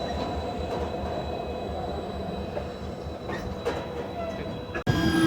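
Dadar Amritsar Express rolling past close by, a continuous rumble of wheels on rail with faint clicks, ending in a sudden sharp shift.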